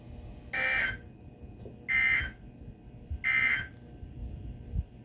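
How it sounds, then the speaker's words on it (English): Three separate bursts of a NOAA weather radio severe weather alarm tone, each a loud steady electronic shriek lasting about half a second, spaced roughly 1.3 seconds apart over faint background noise. "This station will broadcast severe weather alarm tones"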